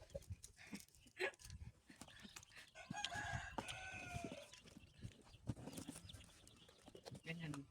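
Rhode Island Red rooster crowing, a faint drawn-out crow among clucking and a barking dog in a backyard, with people talking nearby.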